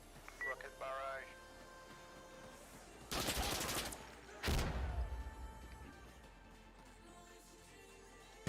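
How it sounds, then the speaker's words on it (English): A rocket barrage in Call of Duty lands as two loud, sharp blasts a second or so apart, set against quiet game ambience with faint tonal beeps before them. "Rocket barrage."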